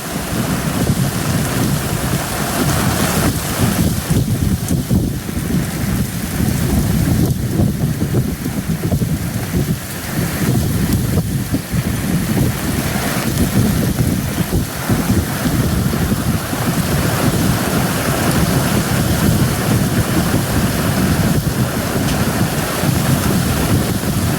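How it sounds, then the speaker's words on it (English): Heavy monsoon rain pours down in sheets as a dense, unbroken roar of water, loud and close with gusty wind buffeting throughout, no voices. "This is actually the hardest I've seen it rain so far. It is coming down in sheets."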